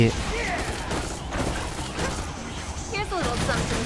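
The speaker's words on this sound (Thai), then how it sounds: "สปาร์คถ้าโจมตีก็คือปาระเบิดรอบๆข้างนะ" Repeated bomb blasts and crashing impacts rattle continuously, dense and loud, with mechanical clicks mixed in, from explosions in Devil May Cry.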